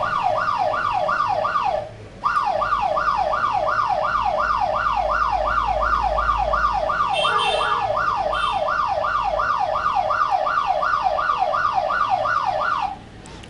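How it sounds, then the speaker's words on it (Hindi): Security alarm siren sounding loud and close in a rapid repeating wail, cutting out briefly near the start and resuming steadily until it stops near the end, with no talking. "और ये सायरन तब तक ऑफ नहीं होगा जब तक मैं किसी अननोन नंबर से ATMT ALTT सेंड नहीं करूंगी।"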